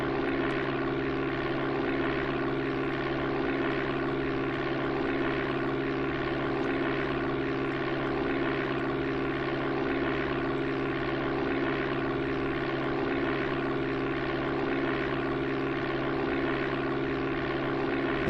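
Steady, droning propeller airplane engine from Amiga Flight Simulator II at takeoff from Kokomo Municipal, a loud, unchanging buzzing hum with no voices throughout.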